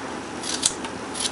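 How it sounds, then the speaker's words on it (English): A spoon scraping the skin off a piece of fresh ginger in a kitchen, giving a short, close, rough rasping scrape with a couple of brighter scratchy strokes. "You're going to want to get the skin off. Just using a spoon, perfectly sufficient."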